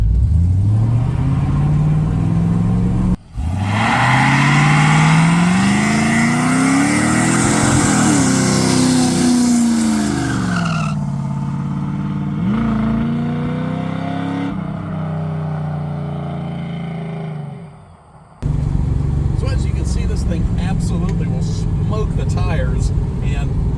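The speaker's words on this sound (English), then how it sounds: "I'll drag the brake just a little bit to get the rear wheels spinning up to speed" A 1969 Camaro Super Sport's powerful V8 revs hard with rising and falling pitch as the rear tires spin, then cuts briefly before roaring again at full throttle.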